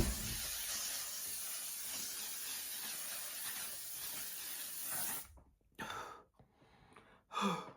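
Steady loud hiss of makeup setting spray for several seconds, then a few short separate spritzes with brief pauses between them.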